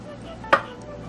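A single sharp knife chop through asparagus on a cutting board, one close crisp thud over quiet room tone.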